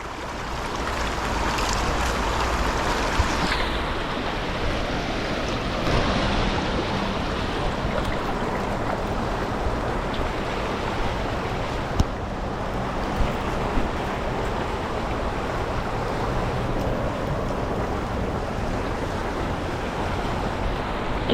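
Strong river current rushing past a person fishing in the water, a constant loud roar of flowing water with wind buffeting the microphone, continuous and close with no talk.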